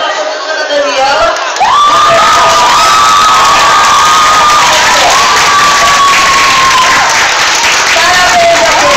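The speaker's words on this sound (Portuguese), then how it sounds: "uma salva de palmas para os professores, para a professora Daniela" A school soirée crowd applauds and cheers for the teachers, steady loud clapping with whoops and children's shouts running throughout after a brief quieter start.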